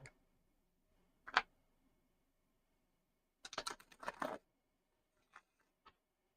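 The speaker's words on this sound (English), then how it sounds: "get these cards shuffled good." Tarot or playing cards are shuffled by hand, with one dense rustling, riffling burst in the middle and a few isolated clicks and taps around it in a quiet room.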